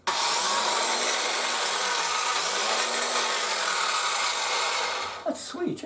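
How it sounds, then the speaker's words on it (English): A DeWalt trim saw cuts through wood, its motor whine steady and loud for about five seconds before it spins down, with a brief rattle at the end. "cutting down this side, 'cause it's a trim saw, designed for trimming off little bits and stuff."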